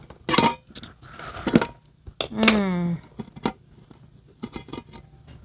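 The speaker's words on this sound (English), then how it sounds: "inside I've got to open this up with a can opener. So let's get this open." A handheld can opener works open a can of freeze-dried shrimp, giving close, bright metallic squeaks and scraping clicks in several separate bursts with short pauses between them.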